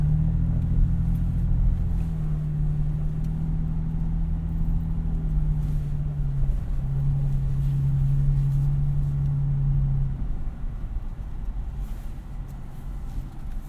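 A 2022 Toyota 4Runner TRD Pro on Nitto Grappler tires climbs a sandy off-road hill, its engine holding a steady, close low drone that eases slightly near the end, with no talk.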